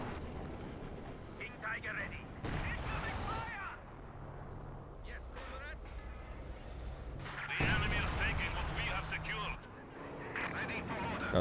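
Artillery fire in Company of Heroes 2, several heavy booming impacts at intervals amid battlefield noise, with someone talking over the top.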